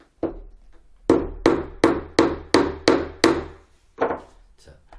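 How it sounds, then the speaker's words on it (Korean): A hammer drives the legs into a handmade wooden toy dog with sharp, ringing woody strikes: one hit, a pause, six steady evenly spaced blows, then two lighter taps, close and loud with no speech. "이 바깥쪽으로 살짝 기울여진 상태에서 요런 식으로 놓고 망치질 해야 제대로 들어갑니다."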